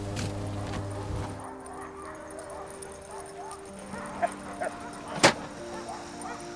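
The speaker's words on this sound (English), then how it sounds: "Got a beautiful dog team and a great musher" A sled dog team at a race checkpoint, scattered barks and short yips rising briefly out of steady engine-like hum and outdoor noise, moderately distant.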